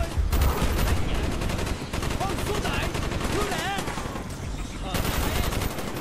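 Sustained bursts of automatic gunfire and rapid single shots from enemy AI soldiers in the Vietnam campaign of Call of Duty Black Ops 1, loud and dense throughout with explosive cracks layered over a constant battle din.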